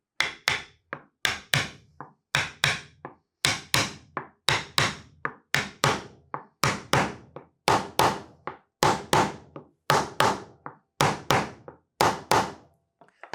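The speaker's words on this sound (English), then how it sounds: "we're going to take our sanding block and we're going to tap this piece down evenly on all 4 sides" A sanding block taps a wooden candy dispenser piece into place, giving a steady run of about twenty sharp, close wooden knocks, often in quick pairs.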